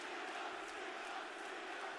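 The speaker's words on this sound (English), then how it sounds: "They cheering for Cena now." A wrestling arena crowd cheering for John Cena, a dense, steady roar of many voices that sounds distant and muffled and holds at an even level throughout.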